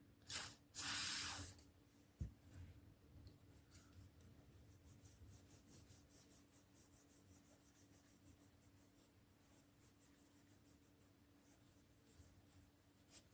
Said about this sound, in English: So here's a bit of WD-40.